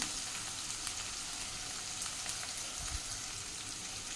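Tomato gravy sizzles in a pan of paneer for tomato paneer pulao, a steady, fairly soft crackling hiss that carries on evenly throughout with no voices.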